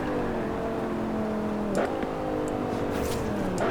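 A BMW M5 with a V10 engine drones steadily at high revs in Forza Horizon 4, with a brief dip and rise in pitch at a gear change midway, loud and continuous throughout.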